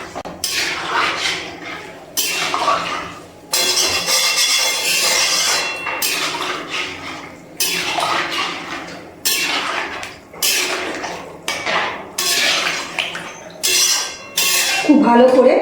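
Drumstick and potato curry mixed in a pot after hot water goes in, a ladle knocking and scraping against the metal in a regular stop-start rhythm, loud and close, with brief talk now and then.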